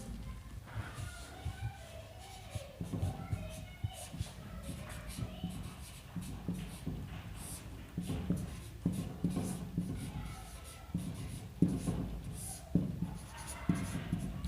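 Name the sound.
pen writing Hindi shorthand strokes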